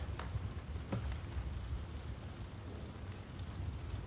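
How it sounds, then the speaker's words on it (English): Heavy rain pours steadily at night, a constant dense hiss with occasional louder drops and no voices. "It's pouring with rain."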